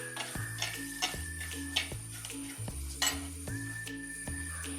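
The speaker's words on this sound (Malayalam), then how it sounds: "അത് നന്നായിട്ടൊന്ന് പച്ചമണം മാറുന്ന വരെ, ഒത്തിരി വഴറ്റണ്ട." Turmeric and chili powder sauté in oil in a pan for a gooseberry pickle, with a crackling sizzle and repeated scraping, ticking spoon strokes over a faint tonal background.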